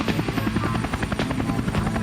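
A helicopter flies in a cartoon horror-comedy story, its rotor thumping loud and steady. The chopping pulse repeats evenly for the whole stretch.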